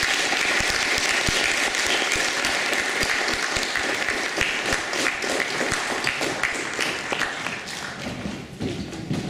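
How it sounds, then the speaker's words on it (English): A large audience at a school academic awards ceremony gives loud, continuous applause, a thick roar of many hands with thumping claps throughout, easing slightly near the end. "Let's give them a big round of applause."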